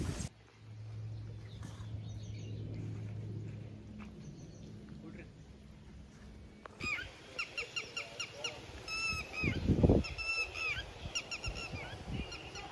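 A bird calls loudly in a rapid series of repeated honking cries, after a stretch where a voice talks over quiet outdoor background.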